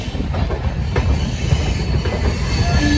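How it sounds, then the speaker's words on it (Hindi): The Bikaner Superfast Express pulling out of Moradabad Junction, a loud, close, continuous rumble of rolling wagons with wheel clatter and a faint squeal, steady throughout the short stretch. "चलती हुई और निकलती हुई बीकानेर सुपरफास्ट मुरादाबाद जंक्शन से"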